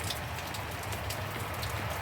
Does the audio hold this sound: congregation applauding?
no